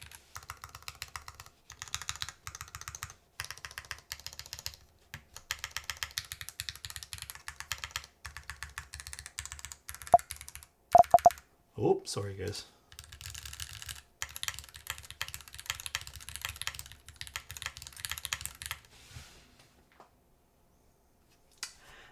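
Keystrokes on a Bear v2 mechanical keyboard in an aluminum case: sharp, close-up clacks in rapid runs with gaps, plus a brief spoken aside and a few clicks or handling noises partway through.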